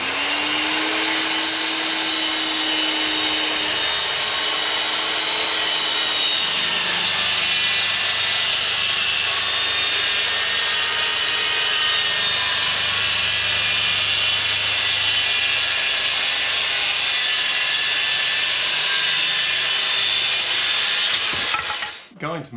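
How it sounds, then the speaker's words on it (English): A power saw rips lengthwise down a board to a 250 mm width, a steady loud whining drone holding for about twenty seconds before cutting off abruptly at the end. "I need to just rip this down to 250 millimeters or about 10 inches"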